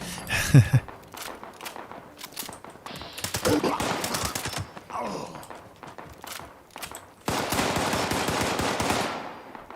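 Minigun fire in the video game Fallout 76, bursts of rapid mechanical rattling that stop and restart, with one long sustained burst near the end and other scattered game noises between.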